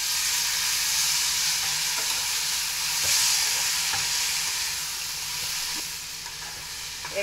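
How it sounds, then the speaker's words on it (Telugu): Grated coconut sizzles and fries in a pan on medium flame, a steady close hiss with faint scraping from stirring, continuous throughout with no voices. "ఫ్రై అయిపోయాక మనం ఈ కొబ్బరిని వేసేస్తాం."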